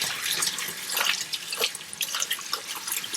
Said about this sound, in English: I'm just washing and cleaning these little petals of the lily bud.